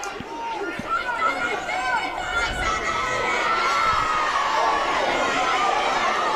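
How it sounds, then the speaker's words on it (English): A lively crowd at a women's BUCS Super Rugby match between Cardiff Met and Loughborough, loud cheering, shouting and high-pitched calls building into a sustained roar, with chatter mixed through the noise. "Crowd getting involved here at Rugby 1 now"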